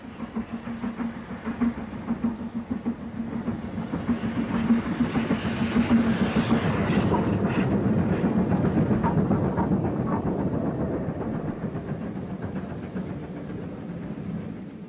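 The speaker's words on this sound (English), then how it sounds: "This is a Newport to Hereford train, double-headed with Clun Castle and Hagley Hall." A double-headed steam train with Clun Castle and Hagley Hall on a Newport to Hereford run passes by. A rhythmic chuff and rumble swells louder midway, then eases off as it passes.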